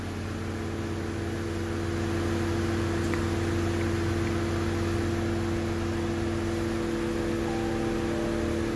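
A 2016 Ram 1500 EcoDiesel pickup idles with a steady low drone and broadband hum, heard from inside the cab, continuous and even throughout with no voices.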